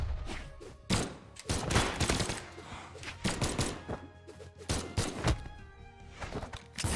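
Bombs bursting in a fast-paced 2v2 video game match, a dense rapid run of overlapping thuds and explosive hits throughout, loud and close, with no talk over them.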